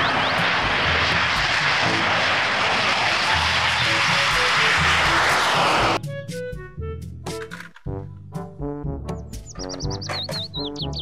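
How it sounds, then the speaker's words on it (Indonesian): A fighter jet engine roars loudly and continuously for about six seconds, then stops abruptly and gives way to lighter chirping, tonal sounds. No one speaks. "Pesawat jet tempur."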